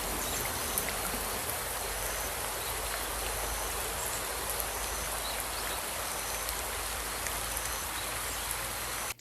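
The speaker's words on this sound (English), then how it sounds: "you hear the water hitting the water and you hear the waves hitting the boat" Continuous rushing water with soft, steady splashing from a virtual reality game, like waves lapping against a boat nearby; no voices.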